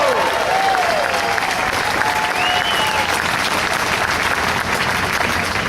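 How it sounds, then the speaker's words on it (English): A large crowd at a Tax Day Tea Party rally in St. Louis claps and cheers loudly and continuously, with scattered whoops rising over the steady applause throughout. "Give yourselves a round of applause."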